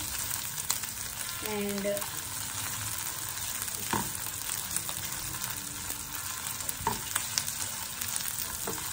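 Ginger, garlic and onions sizzle in hot oil for dal tadka, a steady dense frying hiss with occasional stirring scrapes and clicks, and a brief spoken word passes over it.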